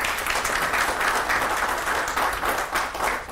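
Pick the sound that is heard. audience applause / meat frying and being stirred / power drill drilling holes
audience applause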